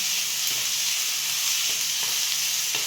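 Five or six onions sizzling and frying in a pan for dal kanda, a steady loud hiss with occasional faint stirring clicks.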